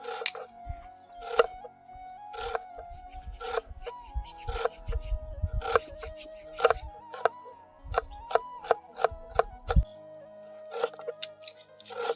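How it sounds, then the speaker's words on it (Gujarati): Dry onion being finely chopped with a knife on a board for a village-style methi matar malai, a run of crisp irregular cuts and taps, close and fairly loud, with no talking. "સૂકી ડુંગળીને આપણે ઝીણી ઝીણી કટિંગ કરી લઈશું"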